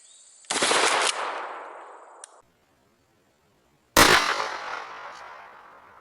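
A Kel-Tec KSG 12 gauge shotgun fires 00 buckshot through a choke at an outdoor range, two loud close blasts a few seconds apart, each with a long decaying echo, the first followed by a metallic clack.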